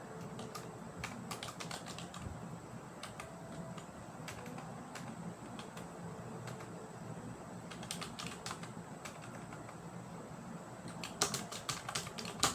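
Keys on a computer keyboard being typed at a steady, moderate pace, with bursts of clustered clicks and short pauses, fairly close and alone against a faint room hum.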